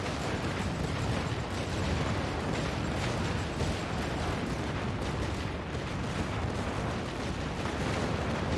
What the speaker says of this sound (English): Tir de barrage sur cette position.